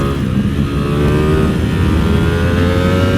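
A V4 SP motorcycle fitted with a Termi titanium exhaust holds a loud, sustained engine roar at high revs, steady and close with wind rush and no pauses.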